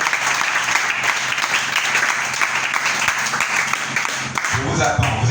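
Congregation in a church breaking into sustained, dense applause that carries steadily throughout, with murmuring voices mixed in beneath the clapping.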